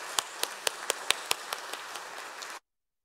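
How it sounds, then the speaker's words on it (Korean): Church congregation clapping during a Sunday service, a quieter, rhythmic run of distinct hand claps with a few standing out, settling into a light patter before cutting off abruptly. "다시 한 번 더 인사할 때 크게 박수 치겠습니다."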